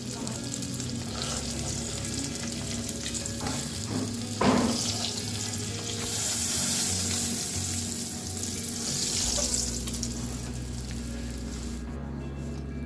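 Green chillies and fish eggs fry in hot oil in a wok, a steady broadband sizzle running throughout with clinks and scrapes of stirring, a brief louder burst partway through, and water running faintly in the background.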